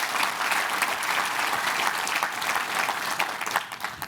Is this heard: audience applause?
yes